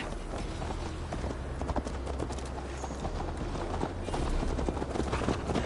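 Horse galloping in Assassin's Creed Valhalla, a steady fast clip-clop of hooves running continuously at moderate level over a constant rumbling game background.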